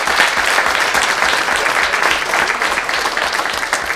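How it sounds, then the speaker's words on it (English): Attendees at a school district meeting give a loud, sustained round of applause for district robotics champions, many hands clapping densely and evenly for the whole stretch. "We can applaud one more time for district champions"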